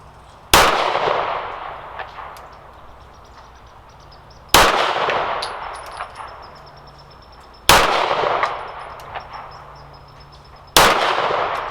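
Four loud Springfield SA-35 pistol shots at steel plates, fired at 15 yards, spaced a few seconds apart, each a sharp crack followed by a long ringing decay, with no talking.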